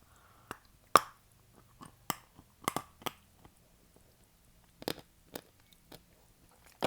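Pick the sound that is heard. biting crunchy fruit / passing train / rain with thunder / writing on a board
biting crunchy fruit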